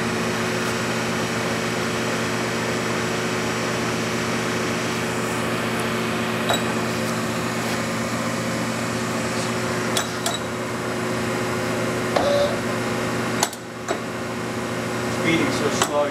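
A Clausing 1250 Magnum lathe, 25 by 88 inches, runs steadily at a slow 25 RPM, giving a constant mechanical hum with a few faint knocks and clicks throughout.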